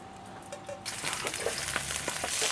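Lemongrass sautéing in a pan for oxtail kare-kare: a quiet start gives way, just under a second in, to a broad, close, steady sizzle and crackle that holds to the end.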